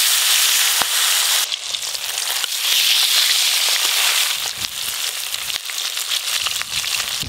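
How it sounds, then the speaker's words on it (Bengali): Fish frying in hot mustard oil with garlic, a loud continuous sizzle with crackling pops and spits throughout, close up, no talk. "মাছগুলো ভেজে নেব।"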